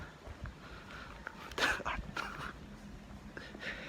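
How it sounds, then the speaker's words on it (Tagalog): A dog barks out on an evening jogging route, a short burst of a couple of yelps near the middle, moderately close against faint background noise. "Tapos may aso na naman dun guys."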